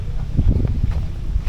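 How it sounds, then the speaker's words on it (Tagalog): Gusty wind buffeting a microphone, low rumbling thumps that rise and fall irregularly, fairly loud with no voices. "sobrang lakas ng hangin"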